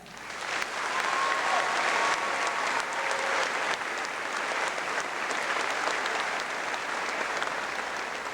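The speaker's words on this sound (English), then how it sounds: "So please join me in applauding for every teacher, counselor, administrator, custodian, lunch lady," Sustained applause from a large audience for teachers at a high school graduation ceremony, a dense, even wash of clapping that swells quickly and holds steady throughout.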